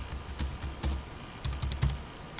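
Keys tapped in quick short bursts on a computer keyboard while a password is entered, close and crisp over a faint background hum, with no speech.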